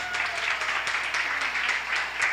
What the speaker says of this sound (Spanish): Escuché un aplauso por allá,